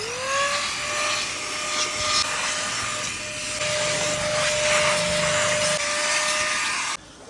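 AGARO compressed air duster blower running while cleaning an AC filter, a loud continuous high whine with rushing air and scraping texture throughout, cutting off abruptly near the end.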